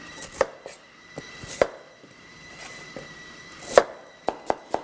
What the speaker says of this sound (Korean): 그냥 이렇게 뚜걱뚜걱 썰어도 좋으니까